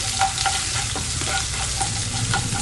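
Curry leaves and garlic sizzle and fry in hot oil while a spoon stirs them in steady scraping strokes, close and continuous, with no talk, as mango pickle is being made.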